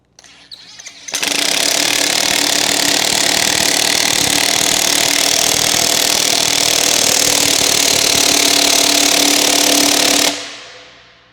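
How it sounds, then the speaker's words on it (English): A Metabo 3/4-inch impact wrench drives a panel base anchor into a concrete slab beside a tilt-wall panel, running loud and steady for about nine seconds after a brief start, then winding down to a stop. "we're going to use a Metabo 3/4 inch impact wrench to secure it to the slab"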